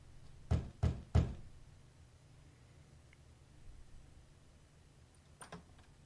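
Three sharp, evenly spaced knocks on a door in a video game, loud and close, followed by quiet and a couple of fainter taps near the end.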